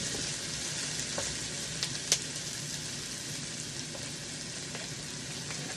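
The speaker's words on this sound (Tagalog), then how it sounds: "Ganda na pagkakagisa, ano lang bawang, luya." Garlic and ginger sauté in hot oil in a pan, giving a steady, close sizzle and crackle throughout with a few soft stirring scrapes and no talk.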